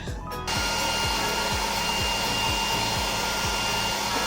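A hair dryer blows with a steady, loud whooshing roar while film is stretched onto a 2025 Honda Pilot, a rhythmic rubbing or scraping sound repeating about twice a second beneath it.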